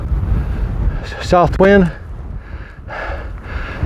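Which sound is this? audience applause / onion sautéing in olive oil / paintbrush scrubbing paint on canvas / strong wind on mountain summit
strong wind on mountain summit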